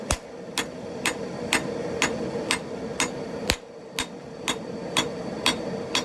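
Steady, evenly spaced hammer blows ring out, about two per second, as a San mai knife billet is forge welded on an anvil, each strike sharp and close with a low forge roar underneath.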